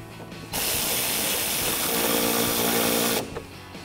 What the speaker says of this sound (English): Grab our 10mm bolt and tighten that up with a 10mm socket.